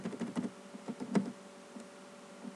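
Keystrokes on a computer keyboard while entering text in an MS Word window, a quick run of soft, irregular clicks in the first half-second, then scattered single taps, fairly faint and close with no talking.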